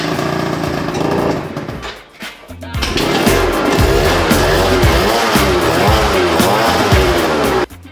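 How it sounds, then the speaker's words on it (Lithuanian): A Honda Jog RR moped engine with a poorly running carburettor revs hard and buzzes loudly, dropping briefly before rising again into a sustained high-pitched whine that cuts off abruptly at the end. "Gazuojant jinai dirba."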